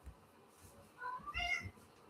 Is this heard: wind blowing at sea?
no